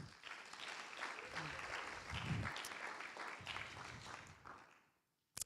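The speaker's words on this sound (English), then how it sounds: "Let's applaud our partners." An audience at a synagogue-hosted briefing applauds for the event's partners, a moderate burst of clapping that fades out before a brief sharp noise at the end.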